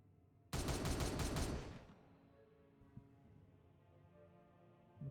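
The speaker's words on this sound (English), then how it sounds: "So now we're going to start shooting at that exposed queen." A dense burst of rapid automatic gunfire from the Warhammer 40K Regicide video game, loud and continuous for about a second, then cutting off into a low background rumble.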